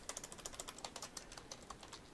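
Typing a command on a computer keyboard, a quick run of crisp, close key clicks in an uneven rhythm, alone with no voice.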